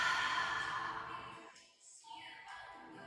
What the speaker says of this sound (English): Then exhale through the mouth